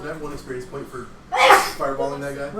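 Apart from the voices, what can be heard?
sneeze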